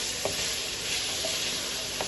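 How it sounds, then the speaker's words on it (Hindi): Chicken tikka frying in a pan for a paratha roll gives a steady, close sizzling hiss, broken by a few light clicks of stirring. "इसको मैं अच्छी तरह कर लूँ फ्राई,"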